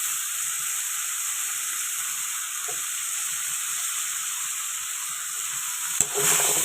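Vegetables fry in a pan with a steady, even sizzle and hiss that lasts throughout, and a brief clatter comes near the end.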